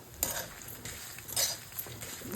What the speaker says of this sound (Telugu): మిరపకాయలు మాడిపోకుండా దగ్గర ఉండి కలుపుతూ ఎర్రగా వేగే వరకు వేయించుకోవాలి